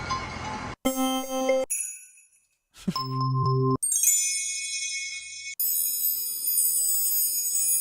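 Chime sounds auditioned for a lofi hip hop beat ring out one after another, each a bright bell-like tone with a sustained shimmer, switching abruptly between different chime timbres with short gaps of silence.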